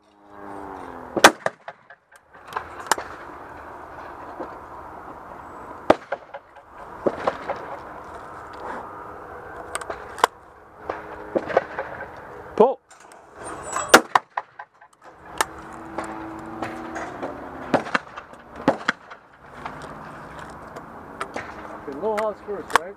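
Shotgun blasts at skeet shooting practice ring out one at a time at irregular intervals, sharp and loud, with people talking between shots and calling for targets.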